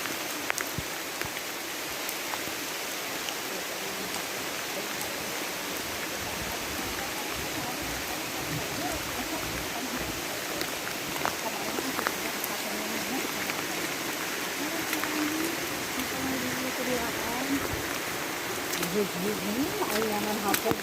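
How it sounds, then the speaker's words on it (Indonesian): Steady rain hisses evenly throughout, a dense broadband wash with occasional louder drips, while voices murmur faintly underneath. "Hujan bang."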